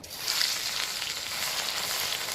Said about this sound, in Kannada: ಈಗ ಇದನ್ನು ಒಗ್ಗರಣೆ ಹಾಕ್ತಾರೆ